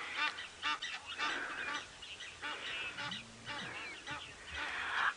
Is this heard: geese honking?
yes